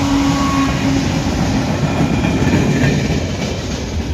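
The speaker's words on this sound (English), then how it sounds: "Manifest train headed down the hill." A freight train with coil and hopper cars rumbles steadily past at close range, a dense continuous roar of rolling wheels and rail noise with no voices.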